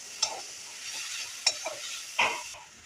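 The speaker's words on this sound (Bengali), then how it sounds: "এটাকে একটু জাস্ট মশলার মধ্যে এই যে ফ্রাই করা হবে" Mint and coriander leaves frying in spice paste for pudina chutney, a soft steady sizzle broken by a few short scraping stirs, close by and fairly quiet, with no voices.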